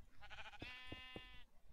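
Sheep in the Minecraft video game bleat in a short burst of quavering calls, clear and close, with a couple of thuds underneath and no talk over them.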